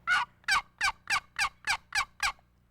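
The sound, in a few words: turkey yelping call made with a quick draw box call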